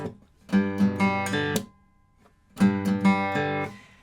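Two short phrases of picked and strummed guitar notes from a song ringing out clearly, separated by a brief pause, played alone without talking.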